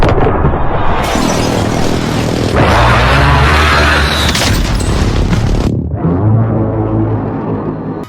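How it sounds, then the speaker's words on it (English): Warzone precision airstrike detonations, a loud roaring barrage of heavy booming explosions and crackling blasts that rolls on for several seconds, then a brief lull before more rumbling blasts. "Enemy precision airstrike, take cover!"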